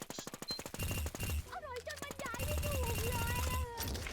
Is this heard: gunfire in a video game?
yes